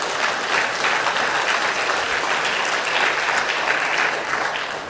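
Sustained audience applause for President Samia at a WHO Regional Committee for Africa session, a dense, steady wash of clapping from a large hall that holds evenly for the whole stretch without voices over it.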